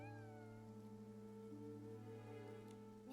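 A cat in the video game Infinity Nikki meows over steady tonal game music and a soft rain-like ambience, its cry fairly quiet and partly blended into the background.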